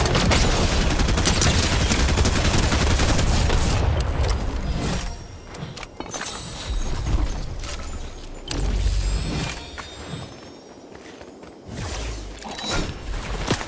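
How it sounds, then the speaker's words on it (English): Gunfire in the Fortnite video game, dense, loud bursts of rapid shots for the first few seconds, then scattered shots and mechanical clatter that continue more intermittently. "Someone is shooting behind us right there."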